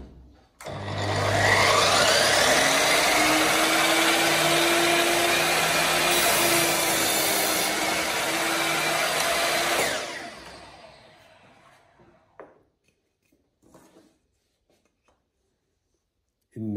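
A loud Total TMS431830051 electric miter saw whines steadily for about nine seconds while cutting, then spins down and fades, leaving quiet clicks and a brief noise at the end.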